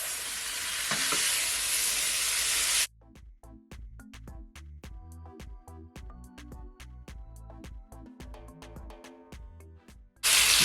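Pork searing in a pan for Jamaican curry stew starts with a loud dense sizzle that cuts away to a quieter stretch of sharp rhythmic ticks and taps, then the hissing sizzle returns abruptly at the end.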